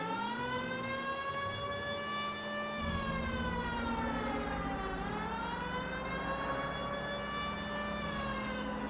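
A wailing police car siren in the video game LA Noire sweeps up and down continuously, steady and fairly loud, with a low engine drone underneath.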